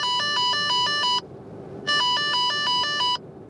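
An electronic anti-drowsiness driving device alarm beeps in rapid pulsed bursts, two loud insistent bursts separated by a short pause, close and clear.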